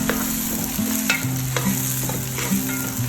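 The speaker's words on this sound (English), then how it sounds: "Then add green chili and sliced onion. Saute it until golden brown." Prawns sautéing in a pan with green chili and sliced onion, a steady close sizzle of frying with repeated stirring scrapes and light clinks, no voices.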